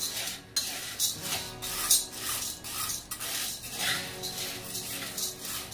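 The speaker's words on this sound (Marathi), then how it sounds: "याला पण असं मस्त हलवत राहायचं, नाही तर मग जळती. बघा त्याला सारखं हलवत राहायचं." Chana dal dry-roasting in a pan while being stirred constantly, producing close, continuous gritty scraping and rustling of the grains with rhythmic utensil strokes.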